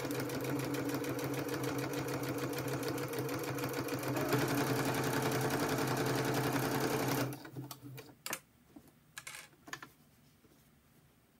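A sewing machine stitching through plastic document protectors for an ephemera folio hums with a fast, steady chatter for about seven seconds, then stops, leaving scattered soft clicks and handling noises.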